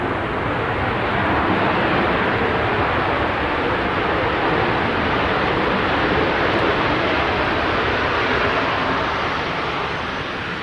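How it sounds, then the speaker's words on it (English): A Ryanair airliner touches down at Manchester Airport, producing a continuous broad rushing roar of engines and reverse thrust that stays loud and near, gently fading at the end, with no voices. "here's the Ryanair touching down"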